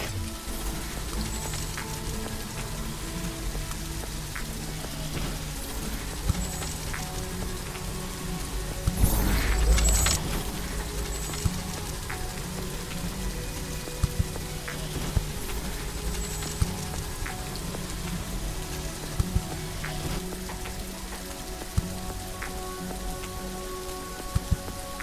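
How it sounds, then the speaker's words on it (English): Steady rain from the video game The Riftbreaker falls as a constant dense hiss of drops on surfaces, with a brief louder swell midway and faint ticks scattered throughout. "It's raining."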